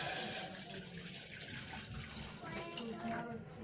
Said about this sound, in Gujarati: હવે એમાં પાણી નાખવાનું.